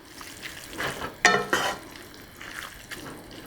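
Chow mein noodles fry in a pan with a gentle sizzle and a few louder scraping stirs and clinks of utensil on the pan, close and brief, no talking.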